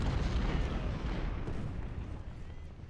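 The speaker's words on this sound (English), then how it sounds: "So let's get into a little artillery duel." Artillery fire in the Civil War video game Ultimate General: Civil War, a heavy low boom rolling out and decaying over a few seconds, loud and close with a rumbling tail.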